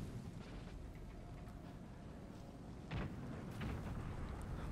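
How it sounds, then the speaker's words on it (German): Old demi-cannons fire during a battle against Swedish forces in the video game Empire: Total War. The booms are faint and muffled under a steady battle rumble, with one clearer blast midway. "Das sind auch alte Kanonen."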